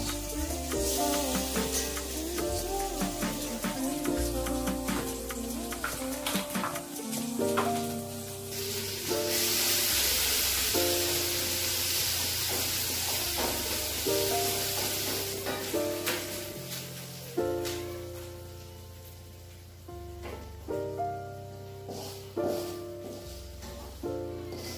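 Ground garlic and shallot spice paste sizzles in hot oil in a home kitchen while making chicken noodle broth, a soft continuous frying hiss that swells midway, half-buried under background music.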